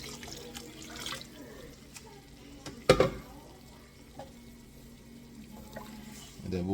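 Water is poured into a pot of Filipino mung bean soup with shrimp and pork, a soft steady trickle and splash under a quiet kitchen background, with one sharper clatter partway through.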